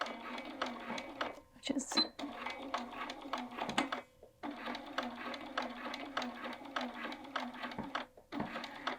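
A sewing machine stitches a welt pocket on a jacket in rapid, steady runs broken by short pauses, close and fairly quiet, with a person talking over it.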